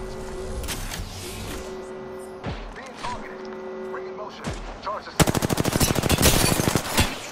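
Rapid automatic gunfire in the video game Apex Legends: scattered shots and thuds at first, then a loud, dense, close burst of fast repeated shots near the end.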